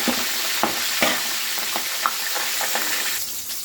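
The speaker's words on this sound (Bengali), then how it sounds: "মাছ তেলটা অলরেডি গরম হয়ে গেছে আর মাছের মাথাটা দেখো আমি দিয়ে দিচ্ছি আস্তে করে দিতে হবে যাতে গায়ে তেলটা ছিটকে না আসে" A catla fish head fries in hot oil, giving a dense, continuous crackling sizzle up close, marked by a few soft stirring knocks and no talking.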